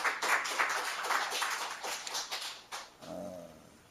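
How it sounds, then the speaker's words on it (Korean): A church congregation at a Friday night prayer service applauds, a dense burst of clapping that rises quickly, holds briefly, then thins and fades as a voice begins speaking at the end. "자, 박수 한번 크게 주시기 바랍니다."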